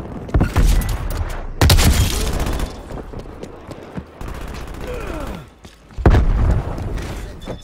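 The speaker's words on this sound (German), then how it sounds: "Granate geht raus. Werfe Granate." Call of Duty Black Ops Cold War combat, with a thrown grenade amid loud booming blasts and bursts of gunfire, several heavy impacts spaced across the stretch.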